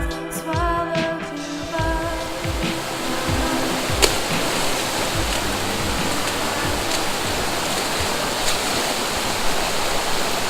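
Rushing water roars steadily, a dense, continuous wash like a waterfall pouring into a fast stream, loud and close throughout.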